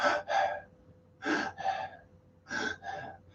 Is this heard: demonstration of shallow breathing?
yes